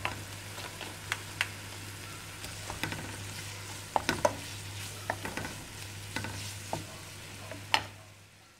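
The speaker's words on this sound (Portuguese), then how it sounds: "Eu vou deixar o bacon ali fritando." Bacon fries in a pan for a carrot farofa with a steady sizzle and a low hum, broken by sharp clicks of a utensil stirring and scraping the pan.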